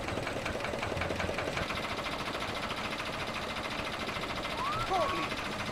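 Engine room machinery in Splinter Cell: Chaos Theory, a steady rhythmic mechanical chugging hum at moderate level throughout, with a brief higher tonal whine near the end.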